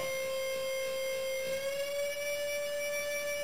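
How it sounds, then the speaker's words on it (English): Out-of-tune guitar strings ring together in a sustained, bright tone that wavers with a slow beating vibration, bending slightly in pitch midway, heard alone and close. "when you try like this, makes a little vibration that is telling you that it's untuned"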